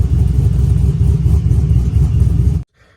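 Truck engine fitted with a mild Norris cam idles with a loud, choppy low rumble and revs lightly, close up and steady for about two and a half seconds before cutting off abruptly.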